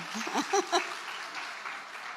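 A small group claps in a brief burst of applause, with a couple of voices calling out over it before the clapping fades out.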